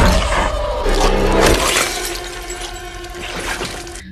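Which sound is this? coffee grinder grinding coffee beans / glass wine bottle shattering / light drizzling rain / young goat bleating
glass wine bottle shattering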